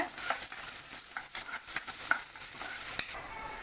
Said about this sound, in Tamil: அதையும் நல்லா ஃப்ரை பண்ணிக்கோங்க